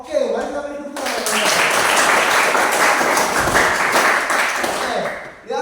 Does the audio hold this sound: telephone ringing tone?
no